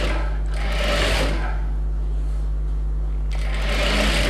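A sewing machine stitches a designer blouse with tulip sleeves, running in two close, steady whirring bursts separated by a short pause.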